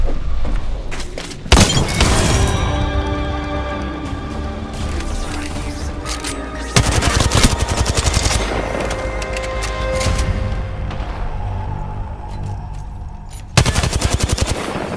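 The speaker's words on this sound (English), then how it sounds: "Listen up, I'm getting shot at." Rapid automatic gunfire from an Eva-8 in a shooter video game, loud, close bursts at the start, middle and end with ringing tails between, no talk.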